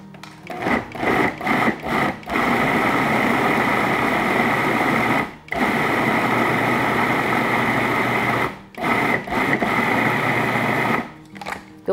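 A food processor pulses dates with a little cinnamon for orange vanilla protein bars, a loud steady whirring motor running in long bursts with brief stops between them, close up and with no talk.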